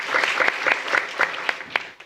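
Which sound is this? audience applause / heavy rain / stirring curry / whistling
audience applause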